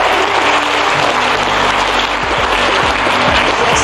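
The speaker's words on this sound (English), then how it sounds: "amidst applause here in the Mission Control Center" Applause fills Mission Control as the James Webb Space Telescope separates, a loud, dense, continuous roar of clapping over a low rumble of room noise throughout.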